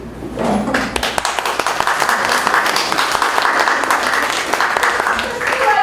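Audience at a Prairie Improv Federation summer improv comedy show bursts into applause and cheering, dense rapid clapping that holds steady for several seconds, with voices calling out over it.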